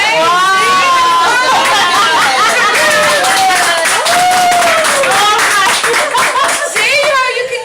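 Loud, sustained clapping from a group of women fills a sewing class, with excited voices and chatter mixed in throughout.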